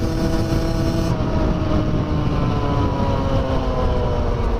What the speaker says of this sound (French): Ah, il y a une moto derrière moi.